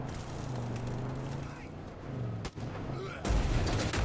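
Gunshots ring out in Far Cry 5, a dense burst of firing with a sharp crack near the middle and a louder blast near the end, amid game noise with no speech.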